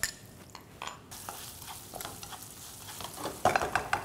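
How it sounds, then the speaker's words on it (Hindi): Curry leaves, mustard seeds and chopped ginger sauté in a pan for tamarind rice, a soft steady sizzle with occasional stirring scrapes and a few louder pops near the end. "अब ये सभी चीज़ों को सौते होने देते हैं"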